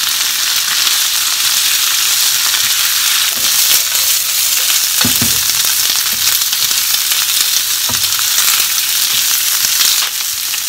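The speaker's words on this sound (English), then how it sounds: "Fry them for a few minutes." Konnyaku fries in a pan with a steady, loud, close sizzle that continues throughout, broken by a few brief stirring clatters and no voices.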